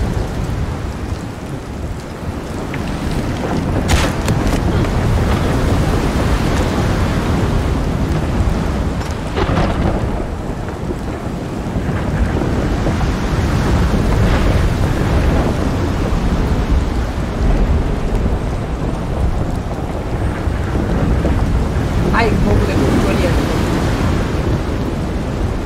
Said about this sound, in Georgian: მესმის აი საიდანაც წვიმა მოდის და საიდანაც ქარია.